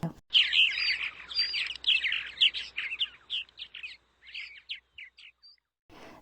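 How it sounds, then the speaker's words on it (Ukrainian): Swallow song in spring: a long, rapid string of bright twittering chirps and warbles, clear and fairly close, running continuously then breaking into shorter bursts before fading, with no voices. "Так, це ластівка."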